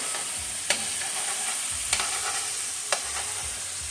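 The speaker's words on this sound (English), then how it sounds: "You're going to let him simmer, and you want to turn and saute" Steelhead trout fries steadily in hot grapeseed oil with garlic, giving a close, continuous sizzle broken by three brief clinks of a utensil stirring in the pan.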